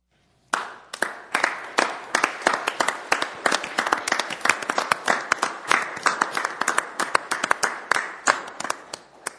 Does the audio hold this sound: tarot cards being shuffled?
no